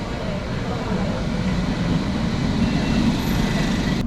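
A London Underground Metropolitan line train bound for Chalfont and Latimer, heard from inside as a continuous low rumble of wheels and motors, steady and close, with a faint voice briefly underneath.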